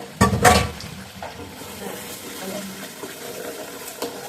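Water goes into a pan of sautéed chicken curry with a brief burst of splashing and pouring close by, then settles into a low, steady simmering hiss with a faint clink near the end.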